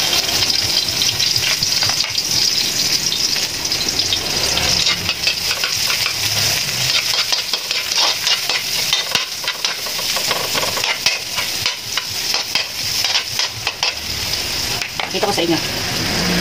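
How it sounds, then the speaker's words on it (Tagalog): Onions sizzle loudly in a hot frying pan while Filipino pork paksiw is being cooked, a steady bright crackle running throughout with occasional stirring scrapes; a voice speaks briefly over the frying. "Dahil mainit ng kawali, unahin natin ilagay ang sibuyas."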